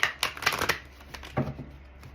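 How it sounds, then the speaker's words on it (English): Quick riffling and soft slaps of a tarot card deck being shuffled, a rapid burst followed by a couple of lighter flicks, close up. "Excuse the shuffling for those of you who have a sensitive ear"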